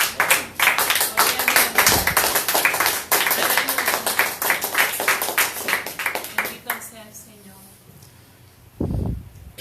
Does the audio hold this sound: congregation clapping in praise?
yes